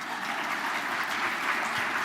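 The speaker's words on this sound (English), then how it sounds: "Now you can clap." Audience applause at a diocesan church convention, a dense steady wash of clapping that fills the hall for about two seconds without pause.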